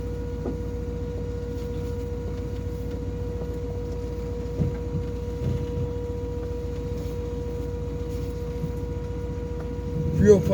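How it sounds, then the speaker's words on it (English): A noisy electric fuel pump in a car with a 5.7 Hemi engine fitted with a Holley Sniper, giving a steady, close whine over the constant low drone of the cabin on a drive, with a brief louder bump near the end. "Fuel pump's noisier than heck."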